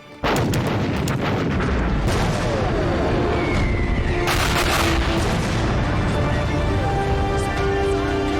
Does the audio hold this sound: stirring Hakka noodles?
no